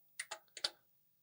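Keys clicked on an Atari 8-bit computer keyboard, four quick crisp keystrokes in a short burst, close and clear with no talk.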